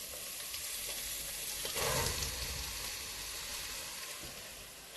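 Onions go into a hot frying pan with a steady, close sizzle and hiss that swells briefly partway through. No one talks.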